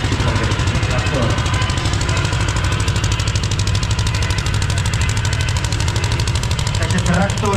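A Černovec KT7 tractor engine runs steadily and loudly up close, a continuous low rumbling throb with a dense rapid pulse that holds unchanged throughout.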